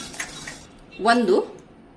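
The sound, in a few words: cardamom pods added to a pan for dry roasting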